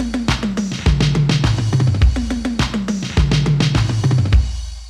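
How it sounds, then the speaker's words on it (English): Electro drum machine toms from two tom lanes, retuned and panned so they sound like many drums, punchy hits in a quick repeating fill pattern with deep boomy lows, loud and dry with no talking. "So that's how you get lots more toms out of just 2 tom lanes in Electro."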